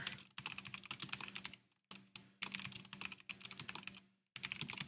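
Rapid clattering keystrokes on a computer keyboard, close and fairly loud, coming in dense bursts separated by short pauses.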